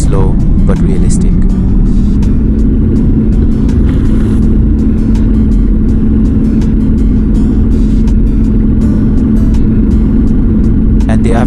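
Pickup truck in the video game A Long Road accelerating from a standstill, a loud continuous engine drone whose pitch climbs slowly and then holds, with someone talking over it.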